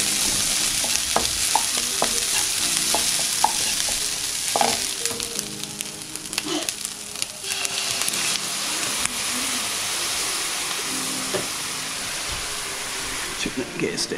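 Food sizzles steadily in a pan on a gas stove, a continuous frying hiss with occasional pops and the clink of stirring, while voices talk nearby.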